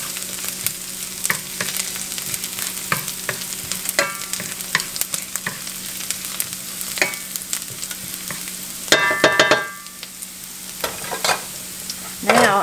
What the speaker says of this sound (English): Now that the onions have been kind of sauteing for, about 3 or 4 minutes, I guess, I'm going to add one clove of garlic.